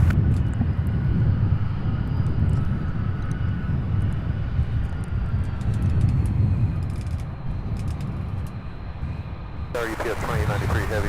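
A UPS heavy freighter jet lands on runway 35 right at Louisville's SDF airport, its engines giving a loud, steady roar with broad low-frequency rumble for the whole stretch, and a short radio transmission breaks in near the end.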